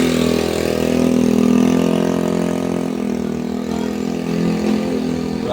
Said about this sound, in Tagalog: Grabe ang ingay ng motor.